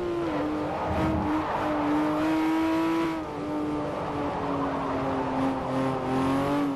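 A Porsche 911 GT2 RS (997) races in Forza Motorsport 4, its engine holding a loud, steady high-revving drone with small pitch dips at gear changes and faint tire noise underneath.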